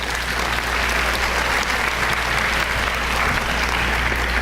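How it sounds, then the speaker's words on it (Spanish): Audience applause welcoming a speaker at a health sciences lecture, a continuous even wash of clapping from a seated crowd, loud and unbroken with no talk over it. "Por favor, aplausos para nuestro expositor."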